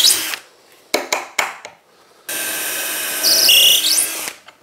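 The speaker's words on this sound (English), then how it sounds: "the 3 holes I'm drilling" A drill bores 3mm holes through a drill guide into an MFT workbench top, with a few short close bursts first and then a longer sustained whine whose pitch shifts near the end.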